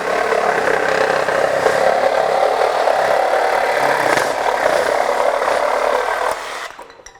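A Craftsman V20 brushless reciprocating saw (model CMCS351B) cuts through a piece of wood, holding a loud, steady buzzing drone for about six seconds before winding down as the cut ends.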